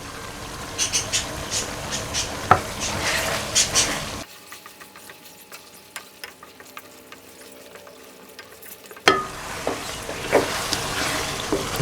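Cumin seeds and chopped tomatoes fry in a pan with a splash of water, giving bursts of crackling sizzle that fade to a low simmer for several seconds before the crackle returns.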